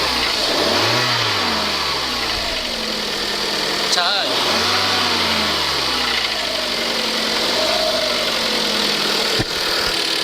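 A used car engine with no engine fault idles and revs up smoothly several times, rising and falling in pitch without any knocking, close by, with a voice talking over it.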